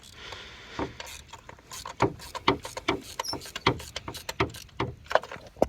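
Ratchet breaking loose and turning spark plugs on a 2010 Dodge Avenger engine, heard as a fast series of faint, close clicks and metallic ticks with small creaks, with no talking.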